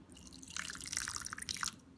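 Water trickling and splashing softly into a flax mixture, a gentle uneven pour with small drips, fairly quiet and close.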